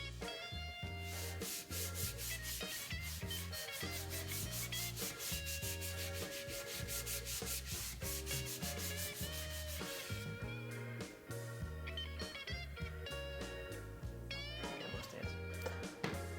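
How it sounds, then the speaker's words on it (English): An Acre board sanded by hand with 120 grit sandpaper on a sanding block, giving rapid rhythmic back-and-forth scratching strokes close up under background music. "simply sanding with 120 grit sandpaper on a sanding block or a pole sander"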